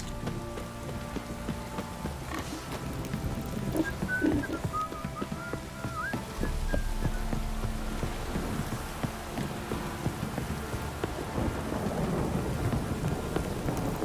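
Steady rain and rolling thunder fill a stormy scene in The Witcher 3, the downpour constant and close while deep rumbles swell and fade, with an occasional faint whistle of wind above.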